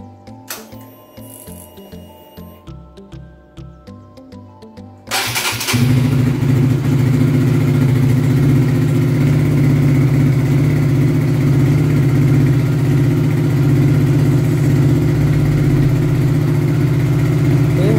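A cold fuel-injected motorcycle with a freshly cleaned throttle body gives a few rhythmic mechanical clicks, then fires up abruptly and settles into a loud, steady, close idle of about 1800 rpm.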